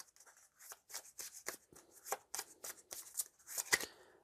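Marvel Champions playing cards being shuffled in quick repeated riffles and taps, close but soft, a steady flurry of crisp card flicks over about four seconds.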